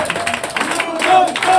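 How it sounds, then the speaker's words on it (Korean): Audience clapping fills a room at the opening ceremony of Democratic Party candidate Yoo Dong-cheol's campaign office in Suyeong, Busan. It is a short, steady burst of moderately loud applause from a gathered crowd. "큰 박수 부탁드립니다"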